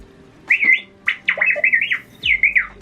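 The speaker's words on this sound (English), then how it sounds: "when you take out the personality chip, I can get it. He sounds like R2" A Galaxy's Edge droid toy with its personality chip removed gives R2-style electronic beeps and warbling whistles, several short chirping phrases in quick succession, close and clear with no talk.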